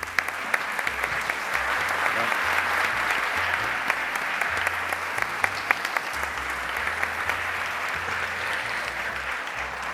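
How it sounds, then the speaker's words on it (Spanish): Steady applause from an audience at a talk event, dense clapping that stays loud and even throughout with a faint murmur of the crowd underneath. "así que los aplaudimos."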